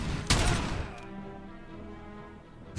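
Gunfire in the first-person shooter Robocop Rogue City, a sharp burst of shots near the start followed by a fainter shot and a decaying tail, with no talking over it.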